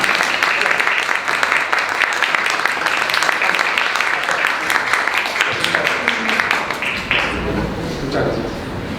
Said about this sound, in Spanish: un aplauso también al profesor